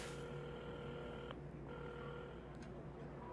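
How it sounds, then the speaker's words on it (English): Telephone being dialed in the video game Assemble With Care, a steady electronic tone cut by brief breaks and a few short beeps over a low hum, with no talking. "at the counter, Carmen had started dialing the phone"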